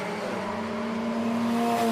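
A FunCup race car leaves pit lane at Kyalami with a steady, loud engine drone that rises slightly in pitch, and a thin tyre squeal runs along with it.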